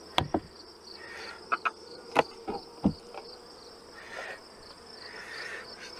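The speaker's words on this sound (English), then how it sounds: "Still a cluster of bees here." A cluster of honeybees left in a hive box during a honey harvest hums in a steady, thin drone, broken by several sharp knocks and clicks from nearby handling.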